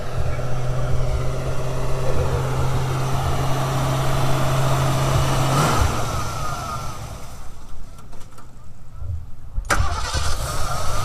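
A kitted-out off-road rescue Ford Bronco with sirens and a winch idles nearby in a steady low engine rumble that shifts partway through, with faint crowd noise in the background.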